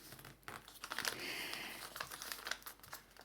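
A paper bag for a scrapbook mini album being folded and smoothed with a bone folder, giving soft, close crinkling and rustling with small taps and scrapes over about three seconds, quiet and without talk.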